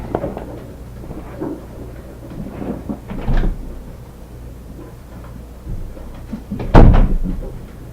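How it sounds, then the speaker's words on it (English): A door is opened to let a puppy in: scattered handling noises and rustling lead to a couple of louder knocks and thuds, close by, with no voices. "I better open the door and let him do that"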